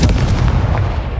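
The Confringo fire spell blast in the video game Hogwarts Legacy, a single loud booming burst that hits hard and then rumbles away within about a second, with no voices over it.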